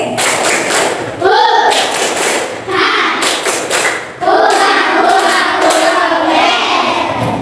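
A Grade 5 classroom performs the tepuk pilot clapping chant, groups of sharp claps punctuating the children's sung rhythmic chanting, close and loud throughout.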